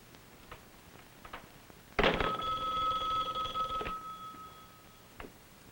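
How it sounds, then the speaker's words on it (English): An old telephone bell on a 1959 television drama rings once, loud and close, in a sustained metallic jangle of about two seconds, followed by quiet room sounds and no talk. "Hang up the phone, Mr. Kovac."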